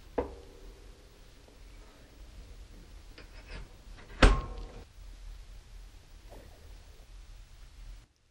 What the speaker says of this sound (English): I'll set the air control fully open and close the door.